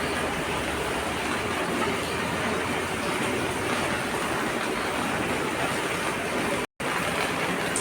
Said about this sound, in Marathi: चला, पाऊस पण आला.